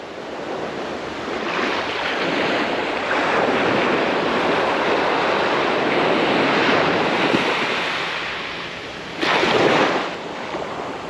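Gentle surf washing onto a beach during a calm day of shoreline fishing, a steady wash of breaking water with wind buffeting the microphone and a louder surge near the end.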